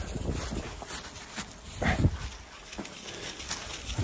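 Laika hunting dogs whimper and yelp outdoors during a spring bear hunt, uneven whines rising and falling over rustling and wind, moderately close.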